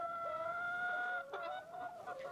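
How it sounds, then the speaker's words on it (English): A laying hen makes a long drawn-out tonal call, then breaks into several short clucks, close by and fairly quiet, with no talking. "have some hens like this, beautiful layers"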